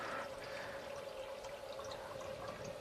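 Water pours steadily into the reservoir of a portable countertop ice maker, a continuous soft splashing rush that sounds close and fairly quiet, with no voices.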